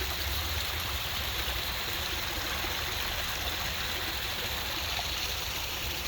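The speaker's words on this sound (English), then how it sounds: "this, of course, is my favorite spot because I've got the waterfalls here" A waterfall outdoors at a favourite spot, giving a steady, close, broadband rush of falling water that stays constant throughout with no voices.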